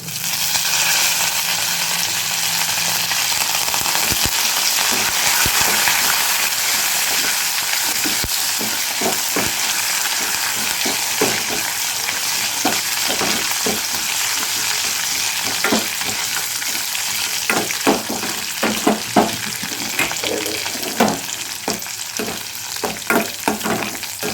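Dried red chillies, curry leaves and tempering spices sizzle loudly in hot oil, with a spoon scraping and stirring the pan in quick, irregular strokes toward the end.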